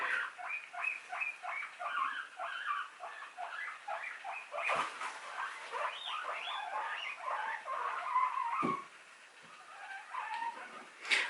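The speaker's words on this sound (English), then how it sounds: "The guinea pigs are going mad for one reason or another." Rapid high-pitched squeaking and chirping from guinea pigs, continuous and excited, with a couple of brief scuffling knocks.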